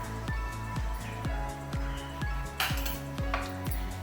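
Metal spoon clinking repeatedly against a cooking pan as two spoonfuls of ghee go in, a steady series of close, bright taps with a low thumping rhythm underneath.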